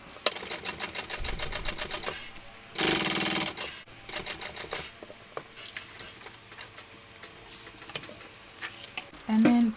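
Sewing machine topstitching a shoulder bag, with runs of rapid needle clatter broken by short stops and one louder steady burst, close up and without speech.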